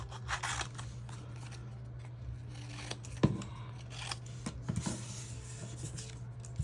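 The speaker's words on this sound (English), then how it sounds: "we are going to cut these up in sections" Paper is snipped into sections with scissors, giving soft, close cutting sounds and a few sharper clicks over a steady low electrical hum, with no talking.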